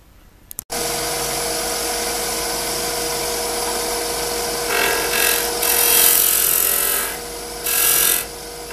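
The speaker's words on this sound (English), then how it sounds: "a parting tool does pretty well to roll a bead over here" Walnut spinning on a wood lathe as a parting tool rolls a bead, giving a steady loud cutting rasp with brief swells of brighter scraping as the tool is rolled over.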